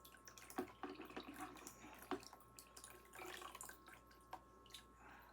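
A watering can pours water over a freshly repotted willow in sphagnum moss, with faint patter, trickling and dripping at close range, quiet and uneven.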